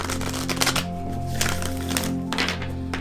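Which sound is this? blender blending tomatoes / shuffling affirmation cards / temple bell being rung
shuffling affirmation cards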